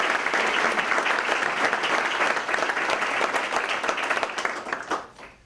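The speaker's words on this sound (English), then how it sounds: "One more round of applause," An audience at a senior awards breakfast breaks into sustained, even clapping for an honoured public servant, and the applause fades out quickly at the very end.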